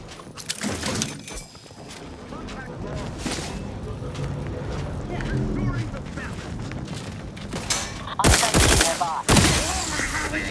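Bursts of gunfire in The Outer Worlds 2, a shooter game: sharp cracks and booms come in clusters, loud and close, with talk and other game noise between them.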